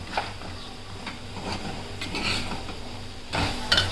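Dal being stirred together with besan in a pot, a soft scraping and clinking of spoon against metal with light irregular knocks, close and fairly quiet, with no talk.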